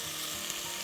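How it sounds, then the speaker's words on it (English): Lamb pieces sear and brown in a hot pan for a Greek lamb and orzo stew, giving a dense, steady, close sizzle with no gaps and no voices. "make sure you've got a good bit of sizzle"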